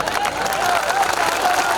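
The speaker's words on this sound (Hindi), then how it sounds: "इतनी कम तालियां।" Brief crowd applause at a comedic poetry gathering in Varanasi, dense scattered clapping for under two seconds with a faint voice mixed in.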